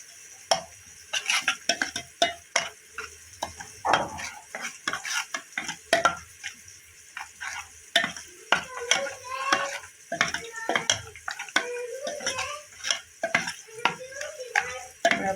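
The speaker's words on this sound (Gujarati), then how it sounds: "હવે બધું મિક્સ કરી લેશું." Spices such as red chilli being stirred into okra curry in a pan, with repeated close scraping and clinking strokes of a spoon against metal in an irregular rhythm over a faint sizzle.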